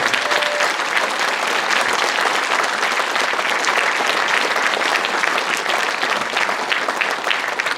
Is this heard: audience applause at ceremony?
yes